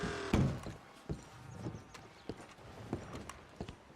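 Horse hooves clip-clopping in Red Dead Redemption 2, a sparse, irregular run of distinct hoof knocks at moderate distance, fairly quiet with no talking over them.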